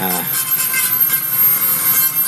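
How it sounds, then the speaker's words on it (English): A Dremel rotary tool with carving bits grinds into cedar wood as a wood spirit wizard is shaped, giving a steady, close, gritty buzzing rasp that runs unbroken throughout. "But you get the Dremel out and you use the right bits, even diamond bits."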